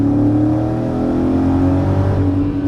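A Mercedes SL55 AMG pulls hard in first gear, its engine holding a loud, steady high-revving roar close up for a few seconds.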